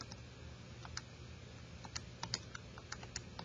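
Light, crisp plastic clicks of data points being keyed into a calculator keypad come in quick irregular bursts, faint and close, with no talking.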